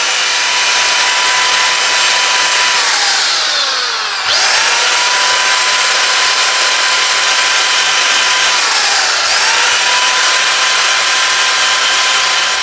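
Power drill boring a hole into a wooden tool handle, a loud continuous whine with two brief dips in pitch where the bit slows under load.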